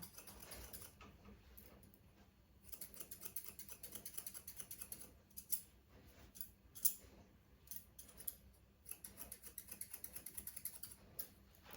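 Rapid, quiet snipping of thinning scissors cutting dog hair repeats in irregular bursts, close and soft, with faint rustling between cuts.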